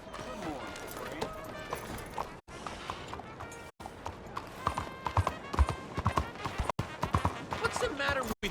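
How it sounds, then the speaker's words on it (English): Horse hooves clip-clopping at a steady walking rhythm in Red Dead Redemption 2 while people talk over them, with some background music. "Hey, this small little horse."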